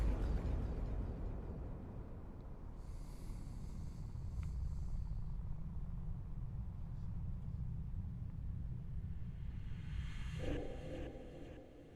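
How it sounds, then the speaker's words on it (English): A UFO explodes in a horror video game demo as a sustained, low rumbling roar that fills the whole stretch at moderate level, with faint higher crackles drifting over it. "Is that an exploding UFO?"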